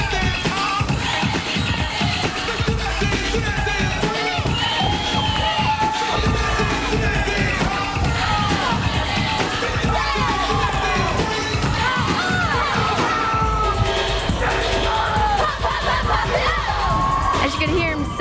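Crowd at a 1996 college dance team championship cheers, whoops and yells continuously and loudly throughout, a dense roar of many voices with shouts rising above it.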